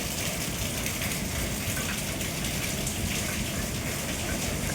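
Steady, dense rain pouring down close by, a continuous hiss with heavy drops spattering on surfaces throughout, no voices.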